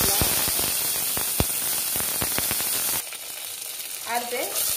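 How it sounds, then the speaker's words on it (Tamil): Mustard seeds, dal and curry leaves crackle and sputter in hot oil in a kadai, sharp pops scattered over a steady sizzle, then the sizzle drops lower and quieter near the end. "இப்போ கடுந்தம் பருப்பும் போட்டாச்சு, அதுக்கப்புறம் கருவேப்பிலை"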